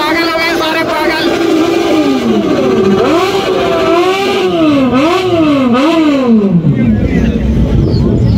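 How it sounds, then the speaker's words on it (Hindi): Several motorcycles on a Sunday group ride, including a Goldwing and a Yamaha R1, rev loudly and repeatedly nearby, engine pitch swooping up and down in overlapping waves, with voices chattering among the roar. "एक बार इधर से रेव की आवाज आ रही है"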